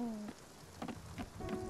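Rain falls in the video game Spiritfarer as a soft, steady hiss with scattered patters. Faint tonal sounds drift over it at the start and end.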